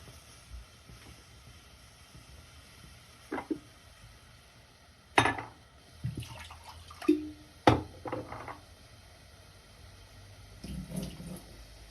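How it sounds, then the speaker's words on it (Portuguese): Water runs from a kitchen tap while a cream thickened with potato starch is being cooked, heard as a few short splashing bursts with quiet gaps between, fairly faint and with no talk. "Deixa eu pegar uma aguinha."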